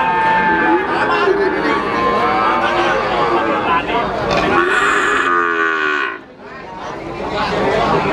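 PO cattle moo repeatedly at a livestock market, drawn-out lowing calls close by over a busy crowd murmur, with people chattering throughout.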